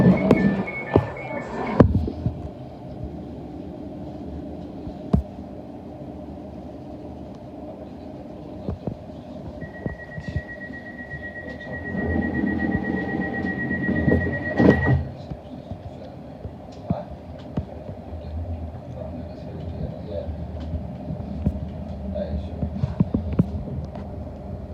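Inside a London Overground train between Liverpool Street and Enfield Town, a low steady rumble carries on throughout with a sustained whine partway through and a few knocks, and soft voices come through faintly.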